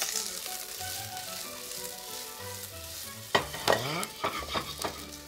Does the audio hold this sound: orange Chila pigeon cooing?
no